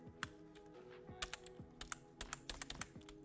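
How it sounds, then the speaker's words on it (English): Keystrokes on a computer keyboard during a digital painting session, sounding as crisp, close clicks in irregular bursts, some single taps and some quick runs, over a faint steady background tone. "The keystrokes and the pen motion."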